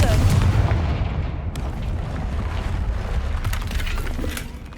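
The Confringo blasting spell in Hogwarts Legacy goes off as a heavy, rumbling blast with crackling debris. The noise stays dense and loud throughout and slowly tails off toward the end.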